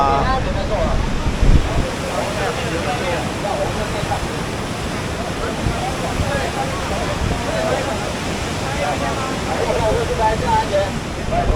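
A rushing river roars along the riverbank at the narrow gorge of Tiger Leaping Gorge, a loud, continuous broadband wash that fills the whole scene steadily from start to finish.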